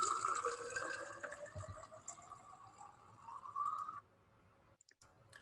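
Cold beer pours into a glass with a continuous liquid gurgle whose pitch rises steadily as the glass fills, ending abruptly around four seconds, followed by near silence with a few faint clicks.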